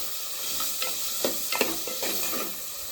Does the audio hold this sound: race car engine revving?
no